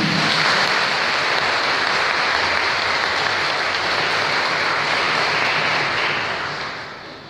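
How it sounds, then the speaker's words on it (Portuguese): Congregation applauding inside a church at a Catholic Mass, a full, sustained roar of many hands clapping that holds steady and then tapers off at the end. "Vamos acolher uma salva de palmas."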